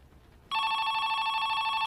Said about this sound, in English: Just then the phone rings again, with the same lady asking the same exact question before hanging up.